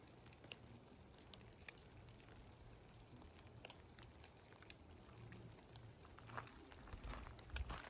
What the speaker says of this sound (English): There's definitely some rain dribbling down, but it feels nice.